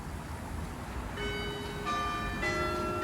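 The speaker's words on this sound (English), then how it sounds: "the midday bell strikes" A church bell in Town Hall Gardens, Southport, strikes midday outdoors. After about a second of quiet square ambience, several clear, ringing strikes follow one another, each note sustaining and overlapping the next.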